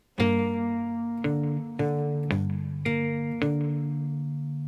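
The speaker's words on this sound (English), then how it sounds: "So it would sound like this with the slide." A twangy cigar box guitar is played with a slide, six notes ringing and sliding into one another in a slow, even rhythm, played alone.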